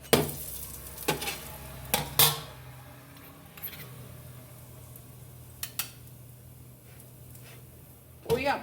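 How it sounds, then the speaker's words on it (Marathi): Makki roti, a maize flatbread, roasts with ghee on a pan as it is pressed down, giving a faint low sizzle broken by sharp scraping and tapping clicks. "अशी दाबून दाबून याला छान शेकून घ्यायची दोन्ही बाजूनी।"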